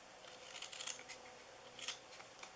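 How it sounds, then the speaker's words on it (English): Scissors snipping through paper to cut a V-shaped nose for a Christmas snowman treat box, a few faint close crisp snips in a quiet room. "I'm just going to cut it like at a V."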